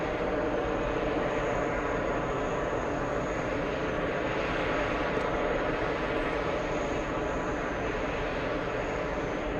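A Delta airliner taking off at JFK airport produces a steady, loud, broadband engine roar that holds unbroken through the whole stretch, with no voices over it.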